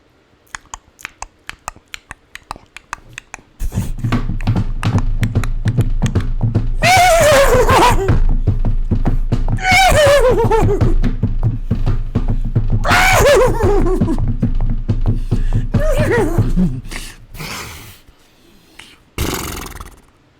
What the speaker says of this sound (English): Now we're going to run with the horses.